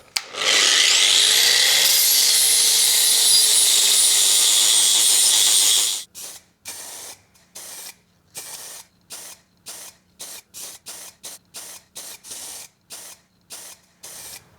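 Old welds on a threaded rod with a welded nut, part of a Deutz 6006 tractor restoration, followed by a long continuous spray burst and then a quick series of short rhythmic scraping or rubbing strokes close by.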